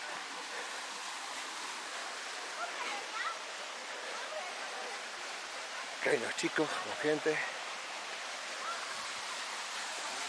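The main waterfall at Pozo del Indio rushes as a steady, broad roar of falling water, with people talking in the foreground.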